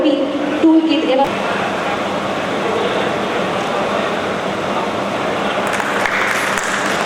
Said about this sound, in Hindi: जोरदार तालियों से उत्साहवर्धन करते रहें लाभार्थियों का